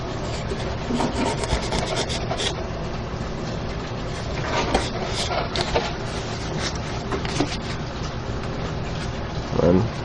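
Steady scraping and rubbing as slits are cut in a BF-109G model airplane wing to free the flaps from the ailerons, close and continuous with small clicks, with no talk.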